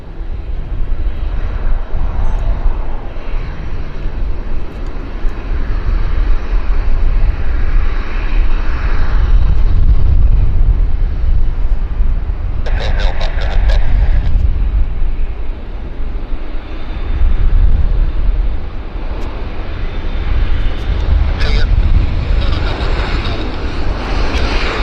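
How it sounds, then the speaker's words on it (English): A WestJet airliner arriving from Edmonton lands on runway 26 at Vancouver airport, a steady broad jet roar that swells and fades over about twenty-five seconds, heard at a distance outdoors with some wind buffeting. "this is a Westjet 167 due in from Edmonton right now. Alighting before our very eyes here on runway 26"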